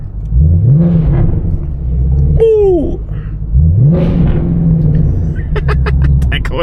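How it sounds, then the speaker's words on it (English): A Ford Mustang engine revs hard in two long throaty surges with a brief pause between, loud and close, followed by a quick crackle; a man exclaims briefly between the revs. "Let's get some nice little revs right here."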